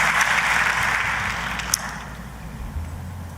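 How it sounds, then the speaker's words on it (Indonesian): A church congregation claps for God during a worship service, a dense wash of many hands that fades gradually toward the end, with no voices over it. "tepuk tangannya sekali lagi yang paling meriah buat Tuhan kita"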